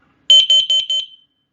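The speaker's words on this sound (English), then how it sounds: "we certainly need to know the sound of the alarm" A carbon monoxide alarm gives four sharp, shrill beeps in quick succession, loud and close, then falls silent.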